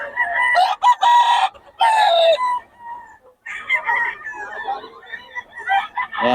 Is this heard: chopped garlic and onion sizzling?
no